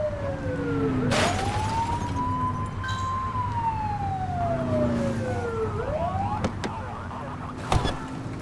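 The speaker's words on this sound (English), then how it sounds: "get behind them and blip the siren and make them pull over" A police car siren sounds in a video game, opening with a short blip and then a long wail that sweeps up and slowly down before a second rise, loud over a low engine drone with a few sharp clicks.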